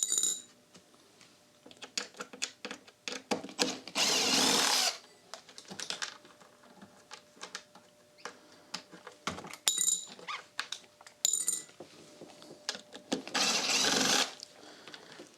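Small machine screws being unscrewed from the lid of a Strauss amplifier, with a series of light metallic clicks and scrapes, two louder bursts of rattling handling noise, and a few quick ticks close to the mic.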